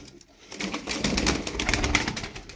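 Injured wild pigeons coo in low, throaty bursts nearby, with some rustling and soft flapping mixed in, starting quietly and growing louder.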